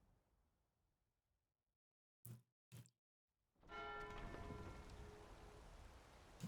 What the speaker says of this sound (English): Oh, the bells are ringing.